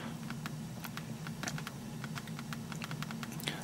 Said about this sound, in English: I'm going to just quickly type up another one, and you can see how well the Storm responds to typing